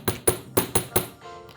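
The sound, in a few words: chasing hammer striking metal on bench block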